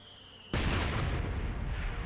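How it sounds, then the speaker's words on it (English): Mortar firing in Company of Heroes 2, a sudden loud blast after half a second of quiet background, followed by a sustained rumbling roar that holds steady to the end. "Mortar taking shots at something"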